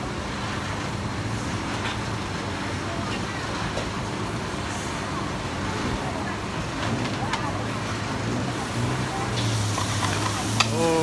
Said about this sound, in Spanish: Aceite hirviendo, como siempre, que es la clave para que el shock calórico